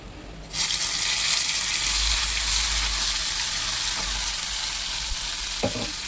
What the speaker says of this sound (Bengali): এবার আমি এখানে তেল গরম বসিয়ে দিয়েছি, এর মধ্যে একটু কালো জিরে দিয়ে দেবো